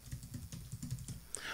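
Rapid clicking keystrokes on a computer keyboard as a name is typed, a quick run of close, soft taps ending in a brief brighter click.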